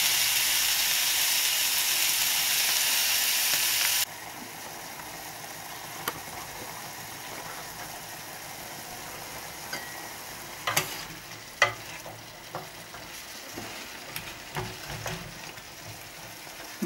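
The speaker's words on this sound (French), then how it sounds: "je vais mettre un petit peu de bouillon et laisser réduire un petit peu" Seafood broth simmering and reducing in a pan for seafood rice, a steady loud sizzling hiss for the first few seconds, then a quieter bubbling simmer with scattered clicks and spoon or utensil taps near the end.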